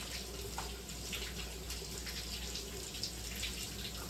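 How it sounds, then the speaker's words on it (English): A kitchen tap runs while hands are rinsed of sticky sourdough, a steady, fairly quiet hiss of water splashing into a sink for a few seconds, with no talking. "we're just gonna leave that and wash our hands off for now"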